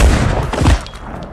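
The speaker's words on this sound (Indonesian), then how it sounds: "Calypso berhasil menembak foreigner tepat di matanya" A gunshot from a pistol in a film scene lands as a heavy, booming thud with a dense low rumble that fades over about a second.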